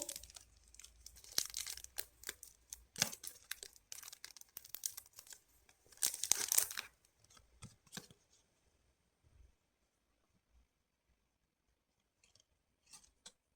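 Plastic wrapping around a K-pop album photocard crinkles and rustles up close in bursts of crisp crackling, then fades to a few soft handling noises.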